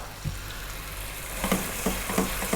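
Half a cup of tomato paste fries on fairly lively heat in a pot, a steady close sizzle with a few stirring scrapes toward the end, no voices.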